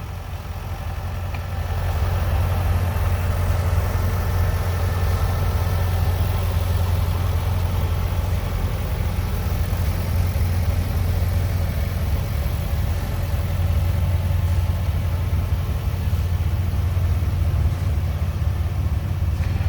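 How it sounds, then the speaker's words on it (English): A 1945 Farmall Model M antique tractor running during an antique tractor parade, a steady low engine rumble that stays close and constant after a quieter start. "It's a 1945 Farmall Model M"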